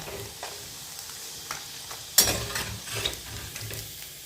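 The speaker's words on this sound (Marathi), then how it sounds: "गॅस मोठं करूनच सांडगे भाजायचे, म्हणजे छान फुलतात." Sago fritters (sandage) fry in hot oil over a high flame, giving a steady close crackling sizzle with a sharper burst of spitting partway through and no voices.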